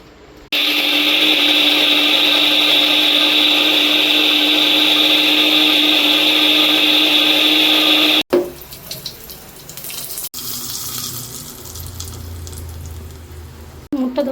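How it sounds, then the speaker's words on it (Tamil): New mixer grinder whirring steadily as it grinds chutney, a loud continuous high-pitched motor whine for about eight seconds that stops abruptly, followed by quieter kitchen clatter. "சட்னி அரைக்க போகிறோம்"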